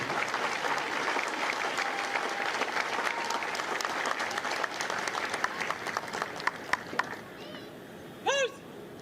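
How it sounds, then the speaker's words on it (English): Sustained applause from a large crowd at a Marine Corps recruit graduation ceremony, steady and dense, with a few louder claps and a brief whistle near the end. "Please join me in a round of applause for the company staff"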